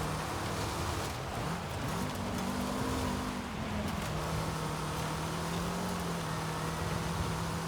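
A racing car engine in Forza Horizon 5 drones steadily at high revs, holding a sustained tone with a shift partway through, loud and continuous with no talk over it.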